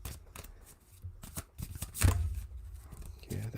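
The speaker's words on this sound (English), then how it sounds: "there goes my great shuffling again" Cards riffle and flutter in a few uneven bursts, close by and fairly quiet, with small taps and rustles between.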